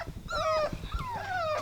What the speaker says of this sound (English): So, Rafiki brought over her puppies.